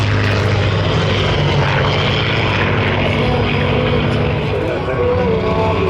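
WWII propeller fighter engines drone loudly and steadily throughout, a dense roar of planes such as a Messerschmitt passing overhead at an air show, with no break.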